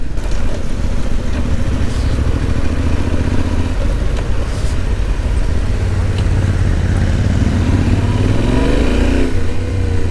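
A motorcycle engine drones loudly and steadily, with shifting revs and rising pitch toward the end, wind and road noise mixed in.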